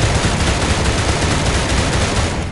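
Loud, dense gunshots in the VR shooter DickWilde 2, a continuous rattling burst of rapid fire up close that cuts off sharply at the end, with no voices.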